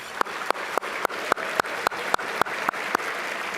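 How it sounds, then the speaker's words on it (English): Luncheon guests applaud together, with sharp, evenly spaced claps beating in a fast regular rhythm over a continuous wash of crowd clapping. "Let's have a big round of applause for everyone."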